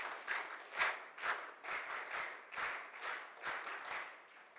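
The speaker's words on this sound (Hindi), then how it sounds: "आप सब लोग जोरदार वीर ताली बजा करके इनका स्वागत करें।" An audience at a girls' character-building camp claps to welcome a teacher, a fairly faint applause of uneven pulses with no speech over it.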